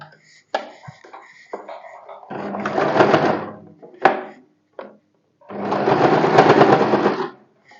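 A sewing machine double-stitches along a folded fabric edge in two loud, close runs of fast whirring about two seconds each, with a few clicks and handling knocks around them.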